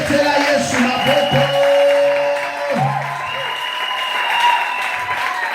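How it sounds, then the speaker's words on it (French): A church congregation bursts into sustained applause and cheering during a sermon on the power of the cross, a dense loud crowd sound that carries throughout, with sustained tones like a voice or instrument over it. "On peut acclamer, on peut acclamer."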